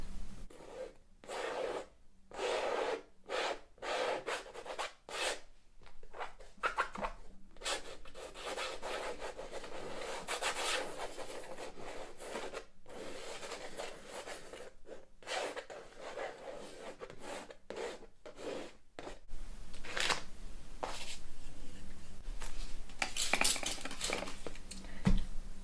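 A small palette knife scrapes and rubs paint across a canvas in repeated short strokes, soft and close, with brief pauses between the swipes and no talking.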